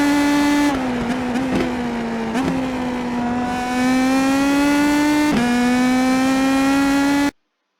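IndyPro2000 open-wheel race car at Okayama in iRacing, engine held at a high steady whine with small pitch dips at shifts and lifts, loud and continuous before cutting off abruptly.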